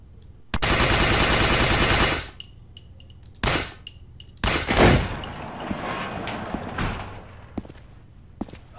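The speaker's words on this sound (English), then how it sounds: "I guess we just keep shooting." Gunfire in Resident Evil: The Darkside Chronicles: a loud sustained burst of rapid automatic fire for about two seconds, followed by a few heavier single shots and metallic clanks, close and sharp.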